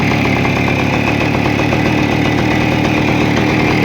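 A Voskhod motorcycle engine idles steadily and loudly up close, a continuous throbbing putter with rattling mechanical clatter.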